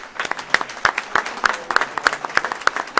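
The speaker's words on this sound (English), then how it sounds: "Let's give another round of applause." A round of applause rises from the audience at a Board of Education meeting, a steady patter of many hands clapping with a few sharper, louder claps standing out near the front.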